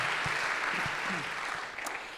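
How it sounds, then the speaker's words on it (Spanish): A church congregation at a worship service gives a short round of applause, a moderate wash of clapping that tapers off toward the end, with faint voices mixed in beneath it. "Eso se merece otro aplauso"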